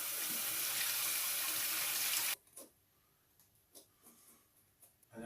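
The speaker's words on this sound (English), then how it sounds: "I wash it first" Tap water runs loudly into a kitchen sink while food is rinsed under it, a steady broad rush that cuts off abruptly partway through, followed by a few faint clinks and handling sounds in a quiet room.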